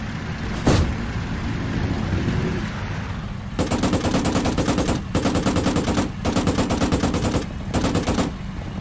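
Infantry gunfire in the WWII-era Arma 3 Iron Front mod at a Russian airfield: a single sharp shot, then sustained bursts of rapid automatic fire in several long volleys with short gaps, loud and close over a low engine-like rumble.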